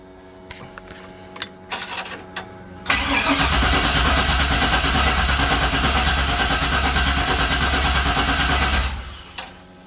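An LS-swapped 1957 Chevy engine cranks: a few faint clicks and clunks, then a loud, steady mechanical churning of the starter turning the engine over for about six seconds before cutting off without catching.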